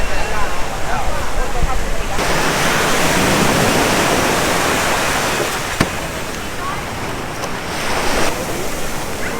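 Surf rolls in continuously at Waikiki Beach in Hawaii, a loud, broad wash of breaking waves with wind buffeting the microphone and no clear voices.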